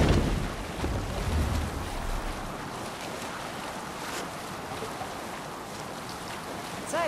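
A sailing boat out on open water in Assassin's Creed Valhalla, with steady wind and waves washing past at even loudness, a low rumble fading early, and no talking.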